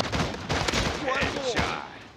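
Sharp, close gunshots in the Hazmob FPS shooting game crack in quick succession, a burst of several rounds with game effects ringing between them.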